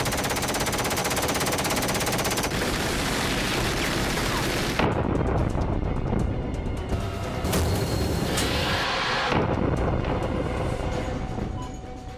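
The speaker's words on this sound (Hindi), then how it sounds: "Alright, firing." Sustained heavy gunfire in an action war film, a dense, loud, continuous machine-gun roar with bursts blending together, alone without talk and close throughout.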